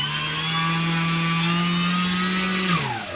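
Extra 300 RC airplane electric motor held at a steady high whine just above quarter throttle, loud and close, with a constant tonal pitch that drops away as the throttle is cut near the end.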